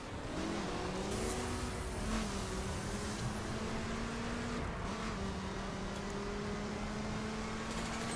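A V4 car engine in The Crew racing game holds a steady revving drone, continuous and moderately loud, with the pitch climbing and shifting as it accelerates.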